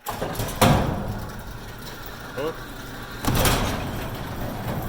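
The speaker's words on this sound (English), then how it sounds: "garage door is frozen to the ground" A frozen garage door being forced open in a cold Colorado winter, with broadband scraping and rumbling bursts near the start and again later, a short creak in between, and a steady background hum.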